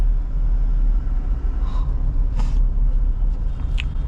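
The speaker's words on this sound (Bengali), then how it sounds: "ভয়ানক জ্যাম।" Heavy road traffic in a jammed Kolkata street on a Monday morning, a steady loud low rumble of idling and crawling vehicles throughout, with a few brief higher horn-like blips standing out, no talk.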